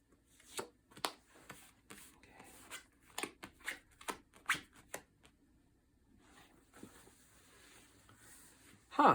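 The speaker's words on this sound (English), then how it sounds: "let's see how those pan out as we draw the tarot cards" Tarot cards being drawn and shuffled, with soft irregular bursts of rubbing, slapping and patter from card handling, close and fairly quiet, bunched in the first half before a quieter stretch and a final louder rustle.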